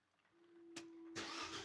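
An Abarth 500 starts up while its brakes are being worked on: a quiet hum, a short sharp crank burst, then the engine catches and runs loud and steady, close by.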